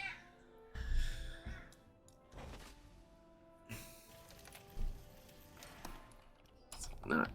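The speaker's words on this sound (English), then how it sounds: "Can't have a cat climbing around on my desk" A pet cat meows and climbs about on a desk, with short mews and brief bumps and scuffs spread across the clip over a quiet room hum, some near and fairly loud.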